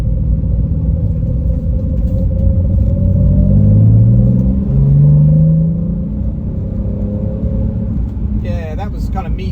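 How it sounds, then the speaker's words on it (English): A manual Toyota Supra MK4 accelerates under medium throttle in second gear with a deep, droning exhaust rumble heard from inside the car that swells and eases smoothly, and a voice briefly joins near the end. "That was kind of medium acceleration on the pedal, and that's got a nice progression through it now"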